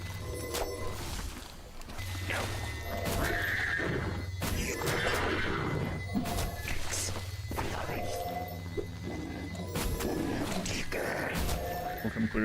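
A horse whinnies several times amid clopping hooves and layered sound effects in the video game Withering Rooms, with a low steady hum underneath.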